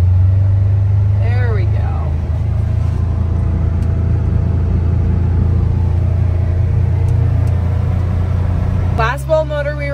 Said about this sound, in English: Gotta throw her in four-wheel drive.